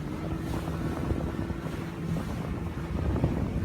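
A steady low engine rumble drones on without pause, mixed with rushing wind noise, aboard a boat heading out to sea for squid fishing.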